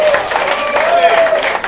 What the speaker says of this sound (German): Applaus für Arthur.